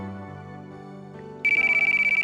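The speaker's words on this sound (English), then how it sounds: "my phone's ringing." A phone ringtone in a visual novel game (Robotics;Notes-style English patch) starts abruptly with a bright, repeating high melodic pattern over soft background music, steady and close, with no talk.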